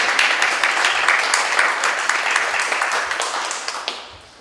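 An audience claps at a workshop in a loud, dense burst of applause that carries on steadily before fading away toward the end.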